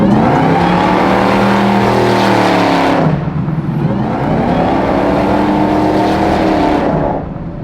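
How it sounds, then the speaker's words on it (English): A supercharged Hellcat engine swapped into a 1971 Plymouth Cuda roars hard through two long pulls, a loud rising whine riding over the deep exhaust, with a brief dip between the runs. "Supercharger whine makes you feel like you're going faster. It's like that whine, right?"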